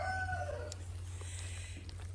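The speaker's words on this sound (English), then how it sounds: "chickens are saying hi. And the rooster, yep, everybody's putting their 2 cents in" Farmyard chickens cluck and a rooster crows in short overlapping calls over a steady low hum, fairly close, with no talking.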